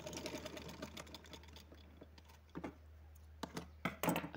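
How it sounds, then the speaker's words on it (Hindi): A sewing machine runs over cloth in short, uneven stitching bursts with clicks and pauses, fairly faint and close, with no talking. "मशीन को इस कपड़े के ऊपर मैं चला के देखूंगी"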